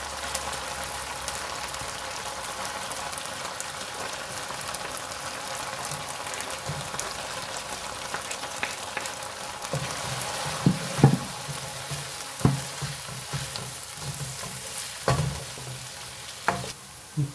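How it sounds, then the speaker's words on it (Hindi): Onions frying for baingan bharta in a pan, a steady close sizzle with stirring scrapes and a few sharper clanks of the spoon against the pan toward the end. "डालना है हमने प्याज को, हमने इसी के साथ ही करना है फ्राई।"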